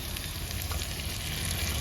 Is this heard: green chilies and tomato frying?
yes